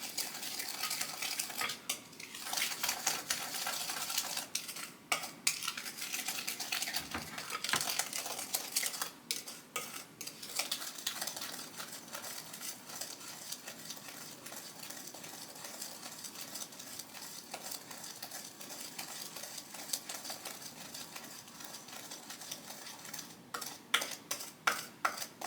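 Muffin ingredients are stirred in a bowl, giving faint, continuous scraping and tapping of a utensil against the bowl, with occasional sharper clinks and no talking.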